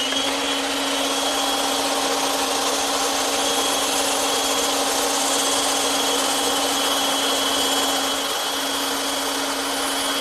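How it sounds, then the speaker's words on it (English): A bandsaw cutting wood whines steadily and continuously, loud and close, with a constant hum throughout and a slight dip near the end. "And now I'm ready to cut those out using my bandsaw."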